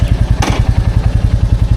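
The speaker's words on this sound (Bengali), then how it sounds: "জাস্ট এখন বাইক নেব, স্টার্ট করব, বেরোবো" A motorcycle engine runs close by at a fast, even idle, with regular thumping pulses and a brief clatter near the start.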